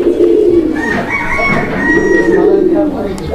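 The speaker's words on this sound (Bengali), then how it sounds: "আমরা কিন্তু এটা ডাকটা আপনাদেরকে দেখাই দিলাম যে কবুতরটা কি পরিমাণ ডাকে" Giachulli pigeon cooing steadily up close, a low throaty rolling coo repeated for several seconds over a busy background.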